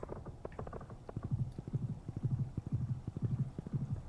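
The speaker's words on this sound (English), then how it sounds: "No one thinks it's weird that I'm just riding a horse through the streets." Steady clip-clop of horse hooves on a hard street in the video game Stardew Valley, an even trotting rhythm that carries on throughout, fairly close with no talking.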